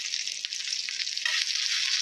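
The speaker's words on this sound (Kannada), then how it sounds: "ಎರಡೂ ಕಡೆ ಶಾಲೋ ಫ್ರೈ ಮಾಡೋಣ." Eggplant slices shallow-frying in oil on a tawa, giving a continuous soft sizzle with fine crackling that swells slightly partway through, heard alone.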